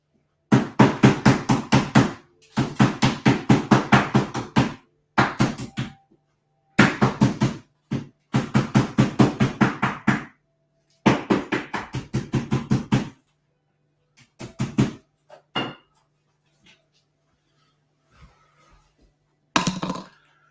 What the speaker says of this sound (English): Hey, Greg, I'm just gonna do a thing with a hammer or mallet.